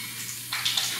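Tap water runs for washing the face before bed, a steady close gush that grows brighter and fuller about halfway through, alone and without talking.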